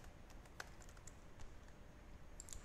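Keys tapped on a computer keyboard while a VPN sign-in password is entered on a Sophos firewall setup, a quiet scatter of light clicks spread across the moment, faint over a steady background hiss.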